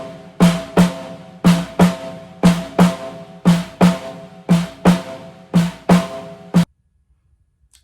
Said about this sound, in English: that's the sound of the swung eighth notes